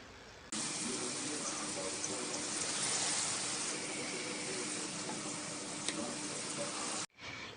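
Vegetables frying in a pan as salt is stirred in for a Bengali fish curry, a steady close sizzle with faint scraping throughout, cutting off abruptly near the end.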